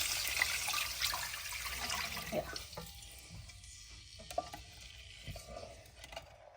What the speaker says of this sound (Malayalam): ഒരു കപ്പ് വെള്ളം ഒഴിച്ചു കൊടുക്കുക.